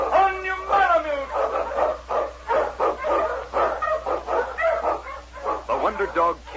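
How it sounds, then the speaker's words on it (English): A malamute lead dog on the Yukon trail barks and yips in rapid repeated bursts, close and loud, with a voice calling out over the barking on an old radio recording. "The Wonder Dog King, swiftest and strongest of Eskimo lead dogs"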